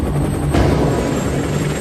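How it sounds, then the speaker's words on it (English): Four helicopters carrying a rescue team lift off from Fort Bliss, giving a dense, steady rotor and engine roar that stays loud throughout with no pause. "4 helicopters with team members aboard depart Fort Bliss"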